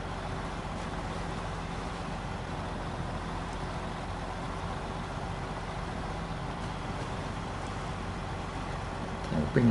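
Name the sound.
truck engine driving in high gear, video game SnowRunner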